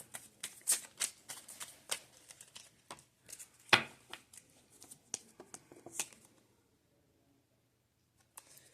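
A handmade, non-slippery, writable card deck, not yet broken in, shuffled and riffled close by in quick papery bursts that stop abruptly, followed by near silence.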